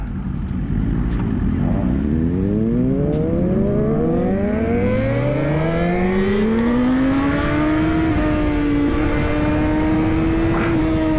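A Suzuki GSX-R1000 sport bike pulls hard along a road at night, its engine note climbing steadily through the gears in long rising sweeps, loud and close with heavy wind rush throughout.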